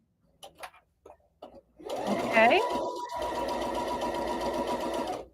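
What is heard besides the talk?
sewing machine sewing a quilt table runner seam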